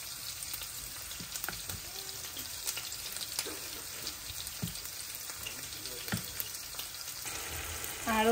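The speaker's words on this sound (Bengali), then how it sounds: "এখন এটা ভেজে নিচ্ছি।" Beef tripe frying in a pan with spices, a steady broadband sizzle with occasional scraping stir strokes and clinks, close and moderately loud with no talk.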